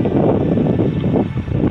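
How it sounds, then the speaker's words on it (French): Wind buffets the microphone on an uphill hike along the Compostelle route from Orthez to Sauveterre-de-Béarn, with the Pyrenees in view. It comes as a loud, continuous low rumble that swells and dips slightly, and no voice is heard. "Et je suis toujours dans le vent."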